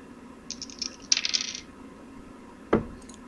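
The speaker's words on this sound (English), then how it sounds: "I'm just rolling my dice for fun." Dice are rolled for fun, a quick run of small clattering rattles on a hard surface, then a pause before one sharp tumbling knock, close and fairly crisp.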